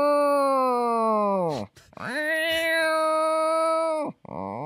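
A person imitates a cat with two long, drawn-out wailing meows, the pitch sliding down at the end of each, followed by the start of another.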